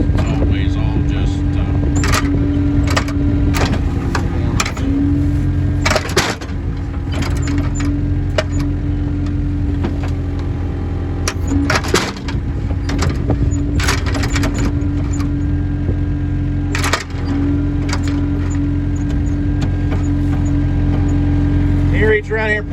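A New Holland LS160 skid steer drives fence posts with a Jetco post driver, its engine droning loud and steady throughout while repeated sharp metallic impacts punch through at irregular intervals and people talk over the noise.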